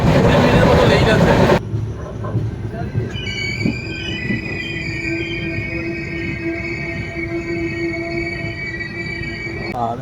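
Kolkata to Darjeeling passenger train running on rails: a loud roaring rumble at first, then a steadier clatter carrying long, high metallic wheel squeals that drone on close by.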